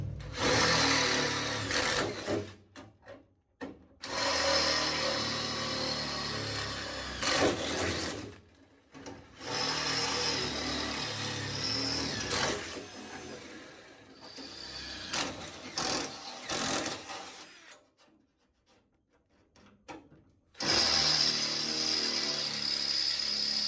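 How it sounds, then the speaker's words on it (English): Drilling out spot welds on the body of a 1972 VW Super Beetle, with several bursts of grinding, whirring drill noise separated by short pauses, loud and close. "I believe there's still quite a bit in the spot weld, so I'm going to drill some more out."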